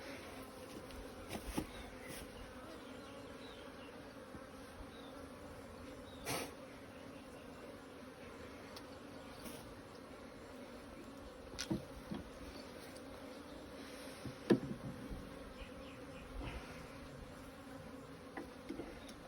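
Honeybees hum in a soft, continuous drone close by while honeycomb is fitted into hive frames, with occasional faint knocks and handling clicks.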